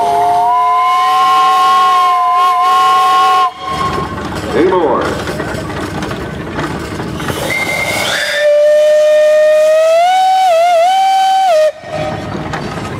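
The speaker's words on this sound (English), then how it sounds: "That's called a Wildcat whistle." A Wildcat steam whistle on a steam traction engine at a steam threshers show sounds two long, loud blasts that waver and bend in pitch, with a short break between them and people talking nearby.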